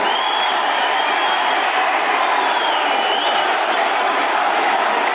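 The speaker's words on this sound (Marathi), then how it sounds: "एकदा जोरदार त्यांच्यासाठी जयघोष देऊन आणि टाळ्या वाजून त्याचा सत्कार झाला पाहिजे" A large crowd at a Karjat Jamkhed rally cheers and whoops for Rohit in a dense, continuous roar, loud and sustained with no pauses.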